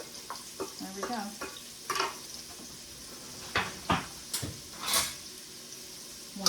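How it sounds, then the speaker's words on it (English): Chopped celery and onions sauté in a soup pot, a soft sizzle under scattered clicks and scrapes of a spoon stirring, with a few louder clatters of utensils against the pan. "We'll give those a really good stir. And while I have those sauteing"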